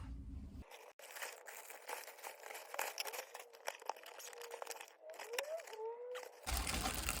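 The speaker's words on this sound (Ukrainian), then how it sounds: "А я хочу дещо зараз розпакувати" Plastic packaging from a courier-delivered parcel holding a pillow crinkles and tears up close in a steady stream of rustles and sharp crackles, with a brief quieter pause near the end.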